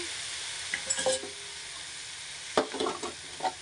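Potol, potatoes and sugar go into a frying pan for a prawn curry, bringing a constant sizzling hiss with a few scraping stirs and clatters, two louder bursts standing out.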